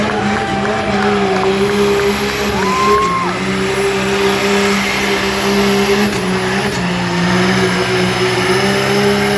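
A loud pickup truck engine revs hard at a truck pull and holds a high, steady roar for several seconds, with pitch climbing and settling, plus crowd noise in the background.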